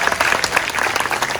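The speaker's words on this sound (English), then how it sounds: "Please give them a big round of applause." An audience at a US sixth-grade graduation ceremony applauds award recipients with dense, continuous clapping throughout, at moderate volume.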